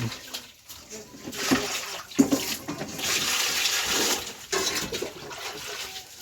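Water running from a tap while vegetables are washed, splashing unevenly with brief breaks and surges, a few handling clatters in between.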